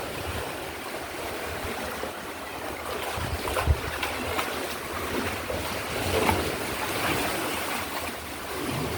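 Storm-driven waves from Typhoon Uwan roll and crash near a fishing boat at high water, a continuous close roar with wind noise and a couple of brief heavier thumps.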